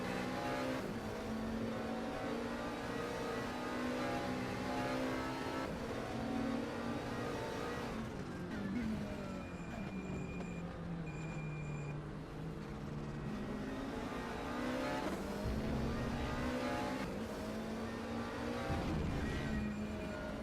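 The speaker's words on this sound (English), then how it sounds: "Victor Berlin closing up on Brunier, coming up to the final corner of the track now." GT3 race cars lapping Laguna Seca in a sim racing game, a continuous loud engine drone whose pitch climbs and drops through gear changes and corners, with no voices.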